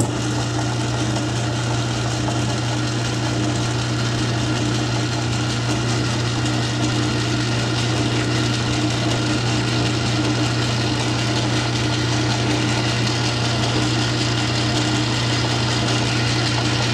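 A machine runs steadily with a constant low hum and a broad whir while center drilling a metal part for a tap wrench, loud and close, unbroken for the whole stretch with no talking.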